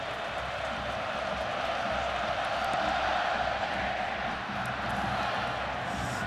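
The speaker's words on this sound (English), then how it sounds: "The crowd settling back in after the intermission and the bands" Steady roar of a large stadium crowd at the Rose Bowl college football game between Ohio State and Oregon, a dense continuous murmur filling the space between plays with no single voice standing out.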